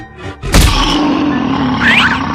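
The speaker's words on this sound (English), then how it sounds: "Gorilla." An animated cartoon gorilla gives a short, deep grunt opening with a heavy thump, followed by a sustained low rumbling tone and a faint squeaky effect toward the end; loud and close, with no speech.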